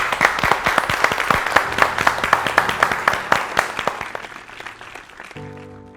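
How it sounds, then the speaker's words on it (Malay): An audience at the Rasa Warrior Showdown cooking competition breaks into applause. A crowd of many hands claps steadily and loudly, then the clapping tapers off and fades out after about five seconds. "Berikan Abang Suhaidi satu tepukan"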